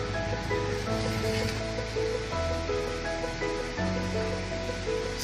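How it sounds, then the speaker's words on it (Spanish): Steady rushing water of the Cañaveralejo river fills the whole stretch, a continuous broad roar of flowing water with no voices. "El ambiente del río Cañaveralejo acá en Sinoé."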